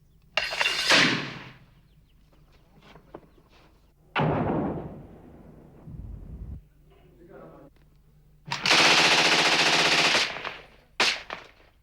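Gunfire and mortar fire during fighting in Rwanda in 1994, near a small stadium, sounding as loud broadband bursts and a heavy blast with quieter shots and rumbling between them, heard alone without talk.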